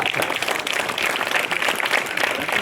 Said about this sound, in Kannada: ಮಕ್ಕಳೇ ಚಪ್ಪಾಳೆ.